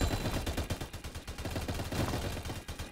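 A mini gunner tower in Roblox Tower Defense Simulator fires a rapid, continuous stream of loud gunshots, each burst sharp and evenly spaced, carrying on without pause throughout.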